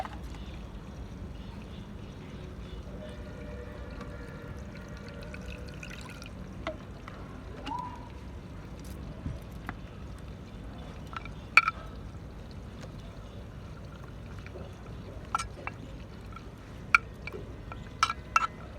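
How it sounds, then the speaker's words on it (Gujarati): Coriander-cumin spice powder mixed with water is poured into a vegetable curry. A faint, low liquid pour sits under soft background noise, with a few sharp drips and clicks toward the end. "આ મસાલા એમને એમ નથી ઉમેરવાના મિત્રો પાણીમાં મિક્સ કરીને ઉમેરવાના છે"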